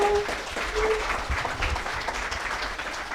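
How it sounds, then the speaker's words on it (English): Audience applause for the participants after a debate on expanding legal gambling in Georgia; moderate clapping from a modest crowd, with brief voices and a tonal sound at the start. "Let's give a round of applause to all of our debaters tonight."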